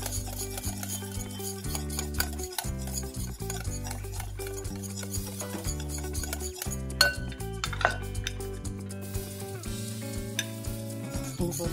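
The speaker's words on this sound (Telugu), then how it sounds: "తిప్పుతూ ఉండాలి." A spoon stirs a cream mixture for an eggless vanilla cake in a bowl, giving soft clinks and scrapes that repeat under steady background music.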